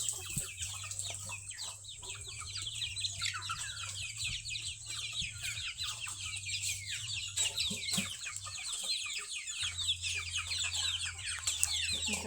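Chickens and chicks on a farm cluck and cheep steadily throughout, with chirps layered over a constant low hum.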